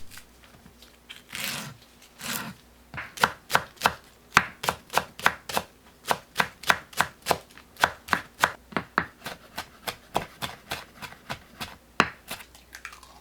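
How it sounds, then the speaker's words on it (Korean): Green onion being minced with a knife on a cutting board, a long run of crisp, rhythmic chops, a couple of slower strokes first and then a steady fast beat, close and clear with no talking. "파 25g을 다져주세요."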